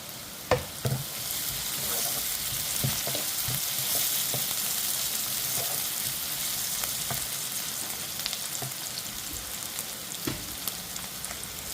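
Vadagam seasoning frying in a pan until crispy, a broad continuous hiss of hot oil with frequent pops and spatula taps scattered throughout, close and steady.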